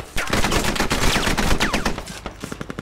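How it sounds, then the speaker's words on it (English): Rapid automatic gunfire in the military shooter Squad rattles close and loud in dense bursts, thinning toward the end into separate sharp cracks. "Careful though, the bullets are flying."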